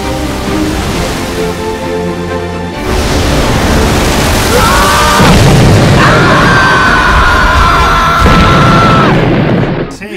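Meteorite explosions in a Minecraft world boom loudly, a heavy rumbling blast building into sustained roaring noise with tonal game sounds layered on top.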